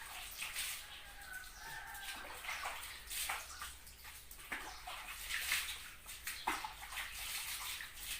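Water splashes and pours continuously while a black dog is bathed, faint and steady with scattered bursts of running water and chickens clucking in the background.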